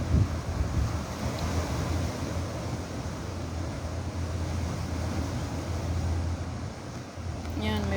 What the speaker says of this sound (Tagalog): Grabe kahangin.